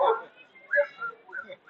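A dog whimpers and gives a few short, thin yips in quick bursts, fairly close and not loud, with gaps of quiet between.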